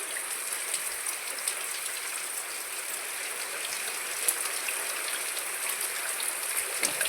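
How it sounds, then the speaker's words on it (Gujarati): The season's first heavy rain pours down in a dense, continuous hiss of drops on surfaces in a village, steady and unbroken throughout. "આવો વરસાદ આવે છે."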